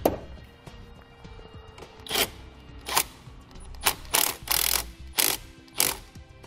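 Short bursts of ratchet clicking come close up as a nut is tightened onto a car battery cable on a 2017 Chevrolet, separated by brief pauses with faint handling noise.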